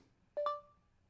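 An Android phone's voice assistant activation tone sounds as a quick, faint two-note electronic chime, the second note a step higher, over near silence.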